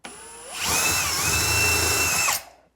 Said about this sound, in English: I'm going to drill a hole right here so I can get a screw into the framing on both sides